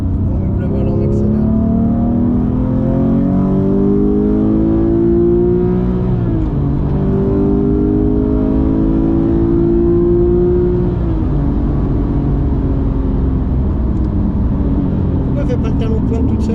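Porsche GT3 Touring with a manual gearbox accelerating hard, engine note climbing in pitch through two gears with a brief dip at the shift, loud and close from inside the car.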